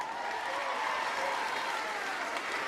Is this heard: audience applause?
yes